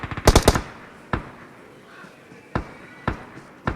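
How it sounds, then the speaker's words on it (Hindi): Gunfire in the PUBG video game comes as a quick burst of several sharp shots followed by single loud cracks spaced a second or so apart. "सामने से और शॉट आ रहे हैं"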